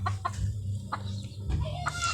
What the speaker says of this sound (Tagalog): Tapos kulungan ng manok mga guys.